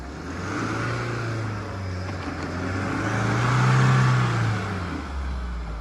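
A Mahindra Scorpio 4x2 revs hard while only one tyre spins, the engine swelling and climbing in pitch toward a peak before easing off, loud and close throughout.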